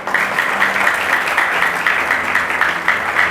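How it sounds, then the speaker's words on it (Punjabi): A church congregation at a Sunday worship service clapping together in a steady, rhythmic beat, loud and sustained throughout. "ਤਾਲੀ ਵਜਾਓ।"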